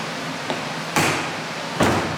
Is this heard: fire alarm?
no